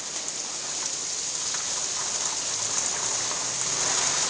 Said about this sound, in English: Look at this rain pouring